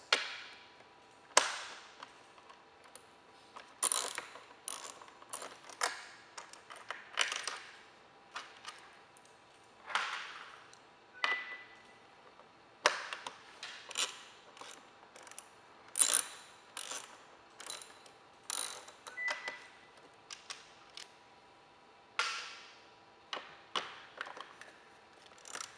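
A hand ratchet loosening three 10mm bolts on a Honda CBR 250R motorcycle, with repeated bursts of close, crisp clicking strokes separated by short pauses, and no talking.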